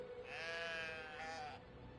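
A sheep in the video game Brothers: A Tale of Two Sons gives one long, wavering bleat lasting about a second and a half. It is clear but fairly quiet over low background hum.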